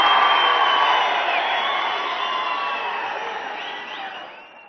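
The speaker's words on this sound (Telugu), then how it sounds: "ముందుగా గౌరవ ముఖ్యమంత్రి రేవంత్ రెడ్డి గారికి స్వాగతం పలకడానికి అందరూ నిలబడి చప్పట్లు కొట్టాలని చెప్పి కోరుకుంటున్నా." A large crowd at a public meeting stands and applauds to welcome Chief Minister Revanth Reddy, making a dense, sustained roar of clapping and cheering that gradually fades over several seconds.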